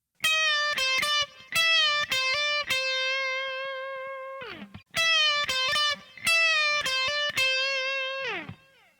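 Electric guitar with a driven, effected tone plays the tenth lick of the solo, quick picked notes, hammer-ons and a held bend, loud and close with brief pauses and a repeat of the phrase.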